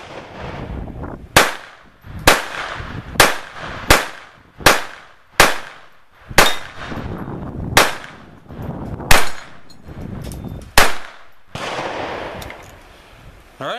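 A Ruger 22/45 Lite .22 pistol fires about twelve sharp, evenly paced shots outdoors, each crack ringing briefly before the next, with no talking.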